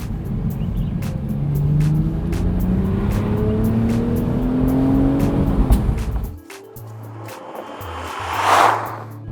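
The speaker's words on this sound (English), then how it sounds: "That's what a real straight 6 sounds like, not what we get from the speakers inside." A BMW Z4 M40i 3-litre turbocharged straight-six engine revs hard, its pitch climbing through the gears as it accelerates, then cuts off and settles into a low idle.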